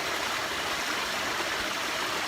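River water rushes steadily through a river pool, a continuous broadband flow without pauses or voices.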